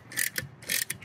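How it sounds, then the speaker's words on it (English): Ratchet wrench cranking down the wheel lifter on a tent trailer, two quick bursts of close, rapid clicking ratchet strokes. "You can use the ratchet wrench to"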